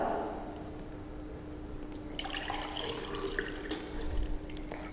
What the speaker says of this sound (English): Now fill it with water.